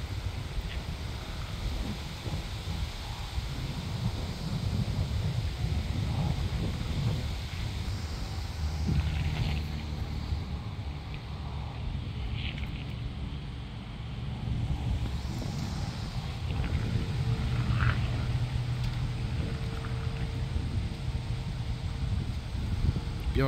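Gusty outdoor wind buffeting the microphone, a low rumbling roar that swells and eases over about twenty seconds, with faint scattered sounds in the background.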